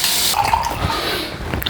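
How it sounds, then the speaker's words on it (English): Water rinsing a Merkur 23C safety razor and a freshly shaved face at a sink: a steady running-water wash with light splashes and drips, close and fairly loud, brief. "let's rinse and see how we did with the first pass"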